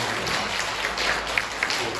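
Soft, steady applause from a church congregation during a Sunday service, a continuous patter of clapping at moderate distance.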